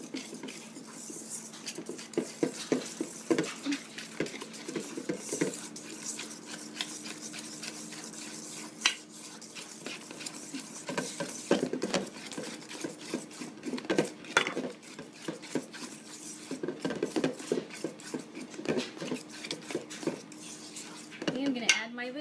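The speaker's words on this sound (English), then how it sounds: "I'm going to put one egg into it. Okay, and I'm just going to mix that around right now." A whisk or spoon clinks steadily against a bowl as an egg is mixed into toffee chocolate cake batter, a continuous rhythmic clatter up close with occasional voices underneath.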